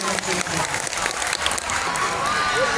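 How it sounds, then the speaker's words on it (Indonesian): Loud applause from a crowd at a junior high school short-film workshop fills the space, continuous clapping with a murmur of voices underneath. "Tepuk tangan dong."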